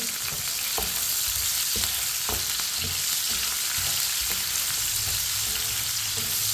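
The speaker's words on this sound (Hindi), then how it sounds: "चम्मच चलाते हुए प्याज को हल्का सा फ्राई करें।" Finely chopped onions sizzle steadily in a pan with cumin and whole coriander seeds, a continuous close frying hiss broken by soft scrapes and knocks of a spoon stirring.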